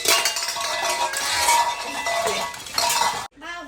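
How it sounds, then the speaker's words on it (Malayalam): A lunch box container is opened and handled, giving clattering, clinking metallic knocks over a busy household background, then a brief silence and a softer rattle at the end. "പാത്രം തുറന്നു."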